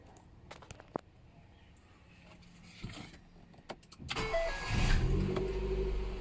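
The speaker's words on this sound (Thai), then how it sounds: "จากนั้นก็ดับเครื่องครับ แล้วก็เสียบปลั๊กเข้าไปที่ตัว OBD2 ใหม่อีกครั้งหนึ่ง และสตาร์ทเครื่องใหม่อีกครั้งหนึ่งครับ" A Ford EcoSport engine is started after an OBD2 plug is reconnected: a few clicks and faint cabin sounds, then the starter cranks and the engine catches into a steady, close idle.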